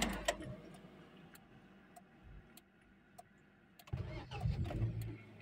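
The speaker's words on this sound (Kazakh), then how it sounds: "көлік бірден от алды, стартер." A Hyundai Accent fires up after a starter and bendix repair: faint ticking and clicks, then the engine catches near the end and settles into a steady, closer mid-pitched idle.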